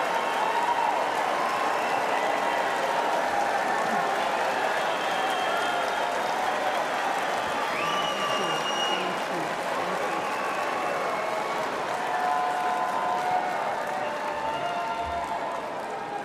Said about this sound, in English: they gave her a nice cheer